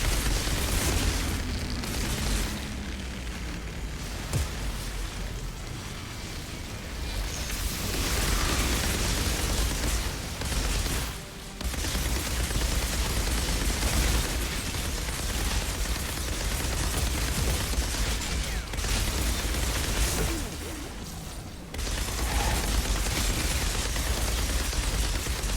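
Repeated hand mortar explosions in the shooter game Outriders, heavy booming blasts that run almost continuously at close range with brief gaps, no speech over them.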